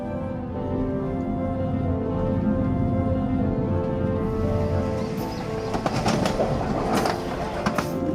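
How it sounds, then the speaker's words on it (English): A passenger train runs through Malaysian jungle and palm oil plantations, giving a steady, loud rumble and rolling hum with rhythmic clicks of the wheels on the rails. Sharper rattles and clatter build toward the end. "I'm making the journey by train, racing through the Malaysian jungles and palm oil plantations"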